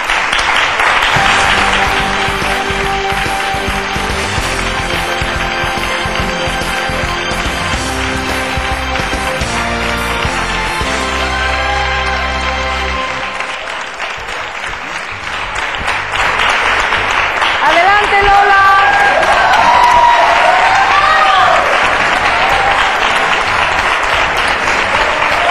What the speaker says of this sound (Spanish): Un aplauso para Lola Padilla